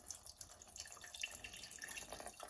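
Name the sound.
straining mulled cider syrup into a saucepan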